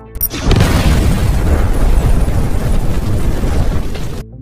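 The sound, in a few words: explosion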